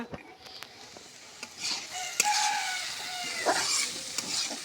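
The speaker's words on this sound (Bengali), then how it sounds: "এবার সুন্দর করে নাড়াচাড়া দিয়ে সবজিটা আমরা তৈরি করে নেব" Vegetables for momo filling fry in a pan, a broad sizzling hiss with scraping stirring strokes and occasional clinks of the utensil, close and moderately loud throughout.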